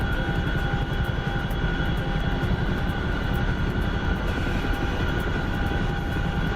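Steady, continuous rotor and engine drone from a Chinook helicopter in a military flight simulator game, a loud unbroken hum with rhythmic low pulsing and no speech.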